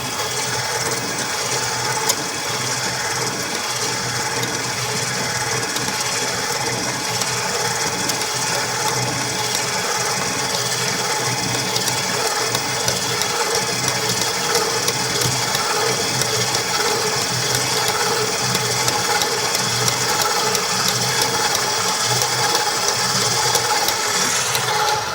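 Electric mixer whirring through maple brown sugar cookie dough, a steady continuous mechanical drone with a faint gear-like rattle, running close and unbroken throughout with no talking.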